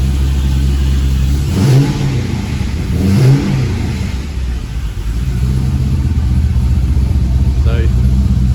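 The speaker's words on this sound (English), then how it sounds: "So we get that little rough burble." An LS1 V8 with a lumpy cam, fitted in a Triumph Stag, burbles unevenly at idle with a couple of short throttle blips, loud and close.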